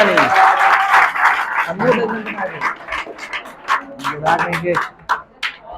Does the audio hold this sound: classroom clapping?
yes